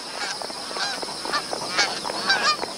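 Geese honk repeatedly at an outback billabong, several loud nasal calls overlapping from close by in an irregular chorus.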